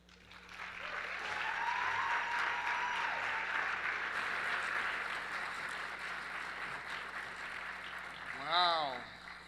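Audience applause fills a luncheon room in a sustained, fairly distant wash of clapping that holds steady for several seconds and then thins, with a voice cutting in near the end.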